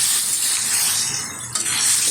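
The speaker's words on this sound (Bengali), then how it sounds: "একটু নেড়ে চেড়ে নিচ্ছি" Hilsa fish curry with mustard paste being stirred in a hot oily pan, a steady close sizzle with soft scraping of the spoon throughout.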